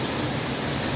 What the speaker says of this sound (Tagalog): Lakas ang tubig ngayon ha.